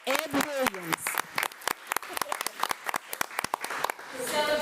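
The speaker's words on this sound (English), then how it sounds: "he deserves a round of applause" A board meeting audience claps for a man's 80th birthday, with scattered, sharp individual claps spread unevenly across the room and talking going on over them.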